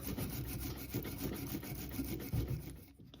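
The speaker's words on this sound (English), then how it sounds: "you want to go in with a wire brush and clean everything out really well" A wire brush scrubs the rear brake caliper bracket of a 2010-2015 Lexus RX350 or RX450h in quick, rhythmic back-and-forth strokes, close and scratchy, fading out at the end.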